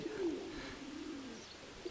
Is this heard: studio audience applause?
no